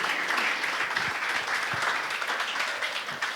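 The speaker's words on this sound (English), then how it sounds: "Round of applause, please" An audience at a tech talk applauds a volunteer coming on stage, a continuous, fairly loud burst of many people clapping that holds steady and tapers slightly toward the end.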